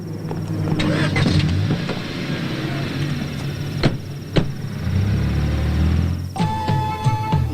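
A car in a Telugu movie scene rumbles with a steady engine under background noise, broken by a couple of sharp knocks, then revs up as it pulls away near the end.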